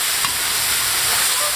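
Ingredients, including Sichuan peppercorns and bean paste, hitting hot oil while stir-frying, a loud, continuous broadband sizzle and hiss that fills the whole moment without a break.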